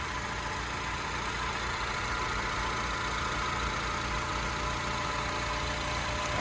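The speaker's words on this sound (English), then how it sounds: "very smooth running engine, no odd noises or vibrations or anything like that" A 2011 Honda Civic EX engine idles smoothly and evenly from close up in the engine compartment, a steady hum with no knocks or irregular noises throughout.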